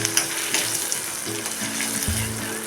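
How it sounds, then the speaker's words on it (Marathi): Finely chopped onion fries in hot oil with mustard seeds, hing and curry leaves, a steady close sizzle with light stirring clatter and a faint hum underneath. "हा कांदा चांगला लालसर होईपर्यंत आपण आता भाजून घ्यायचा आहे"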